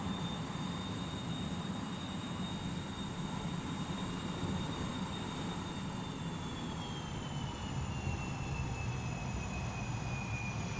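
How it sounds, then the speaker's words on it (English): An F-100D jet taxiing in the video game DCS World, with a steady, continuous engine roar and a high whine that slowly drops in pitch, held at an even level throughout. "let's taxi forward a bit so we're clear of the hangar"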